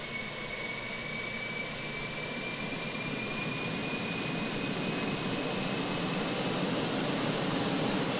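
An EasyJet Airbus A320 jet engine in a flight simulator game roars steadily for the whole stretch, a loud, broad whine that builds slightly over time, with no talking.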